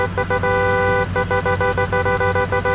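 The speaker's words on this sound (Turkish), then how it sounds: "onu bu rahatsız edici kornayla uyandıracağım" A truck horn in the mobile game Car Parking Multiplayer honks loudly and close, with one long blast followed by many rapid, rhythmic short toots over a low engine rumble.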